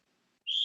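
A single sharp, shrill whistle bursts in after a brief near-silence and holds steadily to the end, loud and alone.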